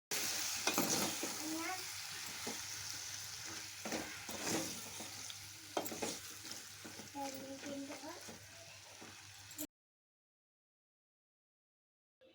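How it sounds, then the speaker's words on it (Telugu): Chicken being fried and stirred in a pan for village-style Indian masala chicken curry, with crackling sizzle, scraping spoon strokes and clatter for most of the clip before it cuts to silence. "అవి బాగా వేగిన తర్వాత చికెన్ వేసుకొని బాగా కలుపుకోవాలి."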